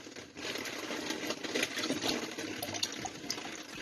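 Water pours steadily out of an opened residential water filter housing. The close, continuous rushing splash holds fairly even for several seconds, with no voices over it.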